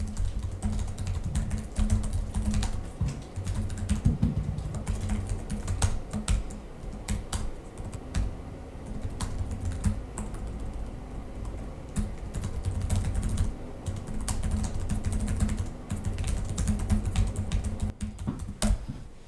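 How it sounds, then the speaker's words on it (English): Typing on the keyboard of a Lenovo ThinkPad L15 Gen 4 laptop: a continuous run of quick, close, soft clicky keystrokes in an uneven rhythm, with occasional heavier taps like the space bar. "So let's do our little typing test."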